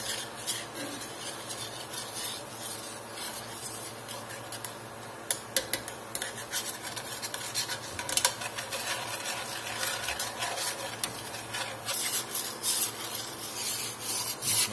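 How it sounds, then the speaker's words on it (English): A spoon scrapes and rubs steadily across the bottom of a skillet, lifting stuck-on bits from frying country ham while making red-eye gravy; close, rasping strokes with occasional sharper ticks, no talking. "we're going to make sure all that stuff that's stuck on the bottom of that skillet comes up"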